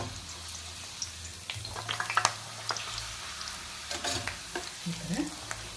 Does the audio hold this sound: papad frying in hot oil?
yes